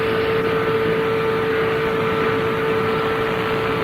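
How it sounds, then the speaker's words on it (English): A NASCAR race car down on a cylinder in the 1997 Winston 500 drones past with a steady, thin, weak-sounding engine note, loud and continuous over constant track noise. "I think he has lost a cylinder definitely. His car, as it goes by here, it sounds very,"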